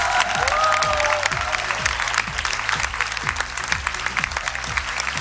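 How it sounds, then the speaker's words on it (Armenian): Audience applause for contestant Sargis on the Armenian X Factor TV show, steady and sustained, with a pulsing, rhythmic music track underneath. "Վերցրու քեզ այդ այս ծափահարությունները"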